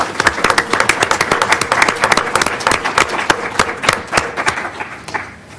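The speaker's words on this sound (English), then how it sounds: "can we give all these folks a big round of applause too?" A county commissioners' business meeting audience breaks into a dense round of applause, many hands clapping steadily and loudly throughout with no talk over it.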